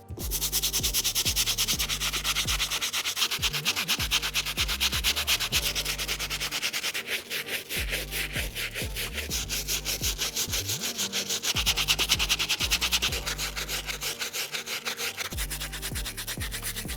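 Brush scrubbing the soles and midsoles of 1985 Bred Air Jordan 1 sneakers: continuous rough rubbing strokes in a steady back-and-forth rhythm, close and loud, with no talking.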